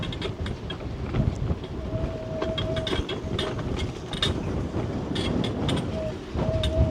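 A train rumbles and clatters steadily along the rails with rhythmic clicks and a faint squeal, as if rolling over a bridge, with wind buffeting the microphone.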